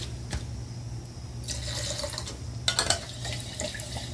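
Paint thinned with lacquer thinner drips back into a container during a drip test while restoring a rusty cast iron table saw table. Soft liquid drips and trickles come in irregular bursts, close and fairly quiet, over a low background hum.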